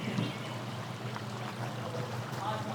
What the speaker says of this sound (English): Maybe hear the stream and go even a little bit deeper.